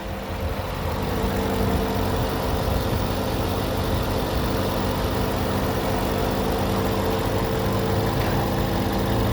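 A 2018 Porsche Panamera Turbo S E-Hybrid Sport Turismo engine idles smoothly at close range, a steady low rumble holding even throughout with no speech over it.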